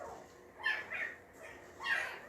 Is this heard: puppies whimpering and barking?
yes